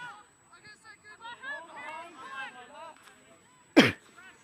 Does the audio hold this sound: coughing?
yes